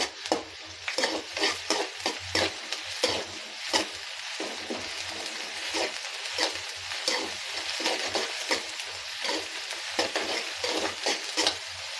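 Homemade ginger garlic paste frying in a pan for vegetable fried rice, a soft continuous sizzle broken by frequent rhythmic scrapes and clinks of a spoon stirring, close and fairly quiet, no talking.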